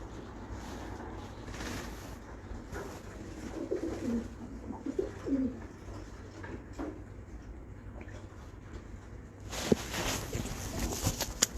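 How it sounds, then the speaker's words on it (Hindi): A Kasuri pigeon coos in soft, low, rolling phrases at close range, repeated intermittently over a faint background hum with occasional rustles. "ये एक कसूरी कबूतर है।"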